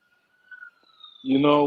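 A faint police siren wails steadily in the background before a voice starts speaking loudly over it.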